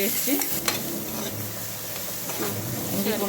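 Onions and ginger-garlic paste fry in a pan for a Kerala fish curry. A steady, close sizzle runs throughout, broken by the scrape of repeated stirring strokes.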